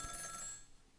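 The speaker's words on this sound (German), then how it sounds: "Das Telefon klingelt." A telephone rings inside the video game Ghost Trick, a short burst of bright, buzzing electronic ringing that fades out within a second.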